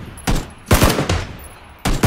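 Rapid bursts of gunfire from PlayerUnknown's Battlegrounds, several close, loud shots in an uneven rhythm over about two seconds, with brief gaps between bursts.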